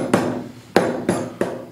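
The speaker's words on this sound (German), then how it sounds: "nehme jetzt sogar noch den Hammer dazu, um die Kanten ein bisschen kaputt zu machen und auch so ein bisschen ein paar Dellen reinzuhauen" Four sharp hammer blows on wooden edges, denting them to give a bottle carrier an aged, distressed look; each hit is close and loud, with a short ringing decay, the strikes spaced unevenly about half a second apart.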